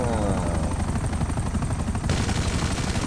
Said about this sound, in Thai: คนธรรมดาที่ไหนจะเอาอาปาเช่มาไล่ยิงแกงเนี่ย ยิงกันกลางเมืองเลยนะ